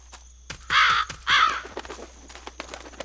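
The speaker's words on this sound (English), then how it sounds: "Usually we don't get birds." A crow calling outside, two loud harsh caws close together followed by fainter chirps and rustling in a quiet room.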